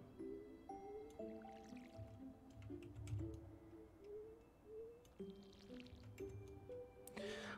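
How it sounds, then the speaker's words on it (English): In Stardew Valley, crops get watered from a can: soft squishy splashing and drips sit under a steady plinking game melody, fairly quiet and continuous. "We're watering our plants that we have so far."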